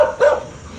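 A single dog's bark or yip from stray dogs in a village on Lantau Island, Hong Kong, one brief burst at mid distance followed by quieter background.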